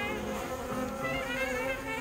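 Honey bees buzzing at a hive, a close, continuous, even hum of many wings with no other sounds.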